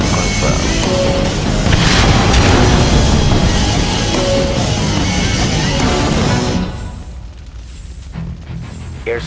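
Airstrike explosions in the strategy game Red Alert 2 Mental Omega, a dense barrage of loud booms and crashes for several seconds that cuts off into a quieter tail with scattered small blasts.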